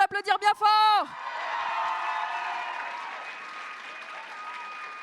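A crowd at a cosplay contest applauds after a brief burst of amplified announcer speech, the clapping rising into a steady, moderately distant wash that gradually fades.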